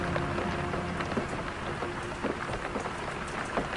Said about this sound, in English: And some more cars and rain.